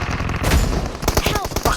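Automatic rifle fire in PUBG Mobile, rapid bursts of rattling shots close and loud, with the rhythm breaking into separate cracks toward the end.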